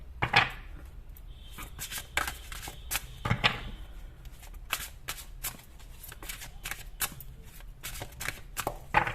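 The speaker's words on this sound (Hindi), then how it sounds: "आपके लिए सारे कार्ड्स निकालने पड़ेंगे मुझे, मैं तभी बता पाऊंगी" Tarot cards being drawn and shuffled close up: repeated quick riffling bursts and soft slaps of cards in an uneven rhythm, fairly quiet, with no talking over them.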